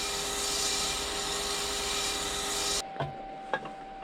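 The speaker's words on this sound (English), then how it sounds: "this lathe is now in reverse, the opposite of what it would normally be. And it sands very nicely" A wood lathe spinning a faceplate-mounted bowl in reverse while it is sanded, a steady loud whirring rub that cuts off abruptly near the end, followed by a couple of light knocks.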